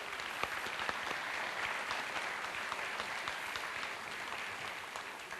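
An audience at an adult education graduation ceremony applauds in a steady, even wash of many hands clapping that holds for several seconds, moderately distant and without cheering.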